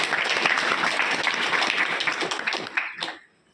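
A school crowd claps loudly for a public senior secondary school that topped its sub-district, a dense burst of applause that carries on, then thins and stops abruptly near the end.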